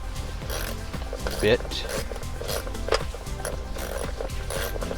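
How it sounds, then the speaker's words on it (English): A ratchet with a T30 socket tightens screws on a swivel screen bracket in a Tesla Model 3 or Model Y, giving quick close clicks and clatter under steady talking. "Get my T30 socket right there, and then that will tighten these up"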